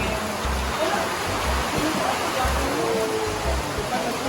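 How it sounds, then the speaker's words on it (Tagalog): Steady, dense rain roars as a broadband hiss, with low thumps and rumble underneath and faint voices in the background. "It's raining."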